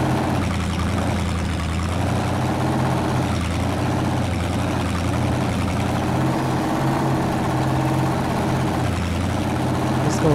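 A Ford Bronco's engine in the off-road driving game SpinTires: MudRunner hums with a steady, continuous idle-like drone and no distinct revs, while someone talks faintly over it.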